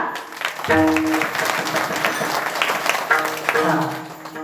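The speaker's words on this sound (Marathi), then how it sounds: "सर्व गुणवान मंडळींसाठी एकदा जोरदार टाळ्या" A crowd at a kirtan performance breaks into loud sustained clapping, dense and close, as a voice talks over it and then again near the end.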